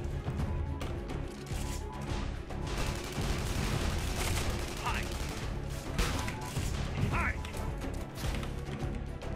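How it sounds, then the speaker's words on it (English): Sci-fi gunfire in the online shooter Tribes: Ascend, a dense, continuous battle din of shots, crashes and mechanical clatter around the player for the whole stretch, with no clear gaps. "I think I'm being shot at."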